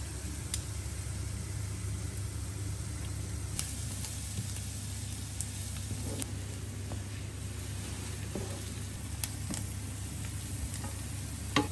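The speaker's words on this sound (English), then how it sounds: "I've just mixed the mince meat through the caramelized onions and cabbage" Beef mince stirred through caramelized onions and cabbage in a pan for Greek lahanodolmades, a steady sizzle with scattered scraping taps from the spoon over a constant low kitchen hum, no talking.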